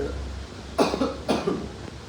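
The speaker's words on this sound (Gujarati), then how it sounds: "મોટી ઉધરસ થઈ ગઈ છે" Two sharp coughs close together, the second following about half a second after the first, loud against a quiet background.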